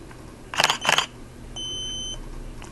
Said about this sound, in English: And beep, I know I'm ready to take the next picture. I know that my flash is fully recycled